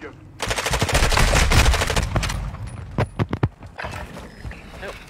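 Gunfire in a shooter video game, a rapid automatic burst of about two seconds followed by several sharp single shots, loud and close, with a voice speaking briefly.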